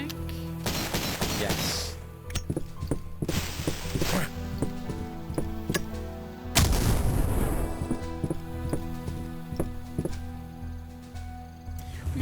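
Gunfire in the video game Cultic, where an enemy carries a pistol: sharp shots and booming bursts go off in irregular clusters, with a heavier blast partway through, all loud and close.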